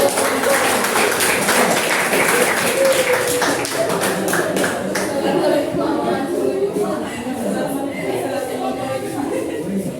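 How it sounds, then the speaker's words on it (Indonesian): Students in a classroom applaud after a group presentation, with loose clapping that is strongest at first and then thins out under murmured chatter and voices. "Oke, berikan aplaus."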